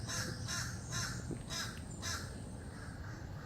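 A crow caws repeatedly outdoors in Florida, several harsh calls in a steady series at moderate distance over a constant low background hum.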